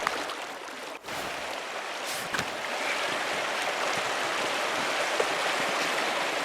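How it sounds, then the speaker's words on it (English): Waterfall in the game Pentiment, a steady broadband rush of falling water that fills the whole span, with a couple of brief knocks early on and no talking. "Waterfall."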